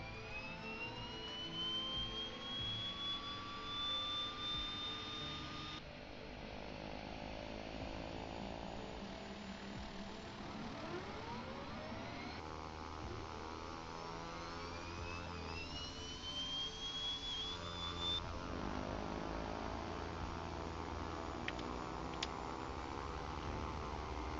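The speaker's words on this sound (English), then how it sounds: "start the engines and taxi to runway 24" Aircraft engines in Flight Simulator X spool up with a rising turbine whine, then settle into a continuous, loud jet drone with shifting tones, and no one speaks over it.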